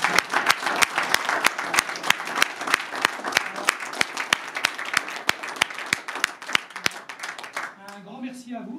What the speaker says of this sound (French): je souhaite qu'on les applaudisse aussi parce que vraiment.